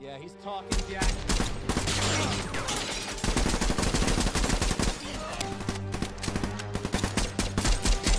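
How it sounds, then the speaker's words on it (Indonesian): Two villains raking a wooden lookout tower with rapid gunfire in a film, dense overlapping volleys and bursts of shots, loud and continuous with brief gaps, heard under a tense music score. "Tak pakai lama, tower langsung diberondong peluru oleh kedua penjahat itu."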